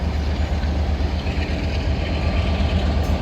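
Locomotive 47848 hauling intercity coaches at London Victoria, a steady loud diesel rumble with rolling wheel noise throughout, heard alone without talk.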